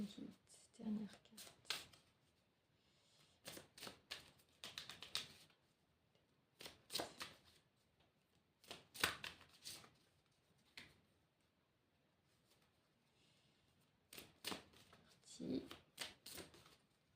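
A deck of tarot cards is shuffled and cut in bursts of crisp riffling and soft snaps, close and quiet, separated by pauses and low talk.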